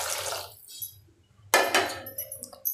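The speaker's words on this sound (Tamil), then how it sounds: "இப்போ இதுக்கு தேவையான அளவு தண்ணி ஊற்றி ஒரு 10 நிமிஷம் நல்லா கொதிக்கட்டும்" Water poured into a pot of sprouted green gram soup with masala, a soft early pour, a short pause, then a louder splashing rush that trails off with faint clinks.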